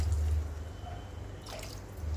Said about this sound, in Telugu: ఒక గ్లాస్ వాటర్ పోసుకుంటున్నాను